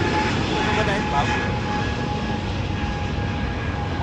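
A fixed-wing airplane roars steadily overhead near an airport, its broad engine noise filling the whole stretch at a close, loud level beside a riverside fishing spot.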